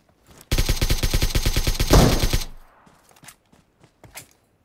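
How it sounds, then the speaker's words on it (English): SKS rifle fire in the mobile battle-royale game PUBG Mobile: a rapid, evenly spaced burst of about fifteen loud, sharp shots lasting two seconds, followed by a few faint scattered footstep-like taps. "I think it's one of the new guns. Yeah. SKS."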